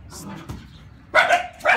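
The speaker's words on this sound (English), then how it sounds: "And the dog is crazy." A pet dog barks at home, a couple of loud close barks and yips near the end, following quieter movement and soft talk from people nearby.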